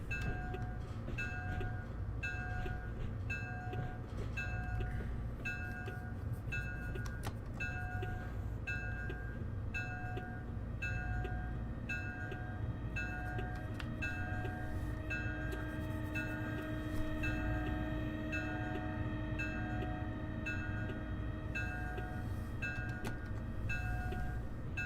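An Amtrak regional train emerges from a tunnel and passes in Train Sim World 2020, a steady rumbling roll with sustained tonal hums and occasional clanks, continuous and fairly loud throughout.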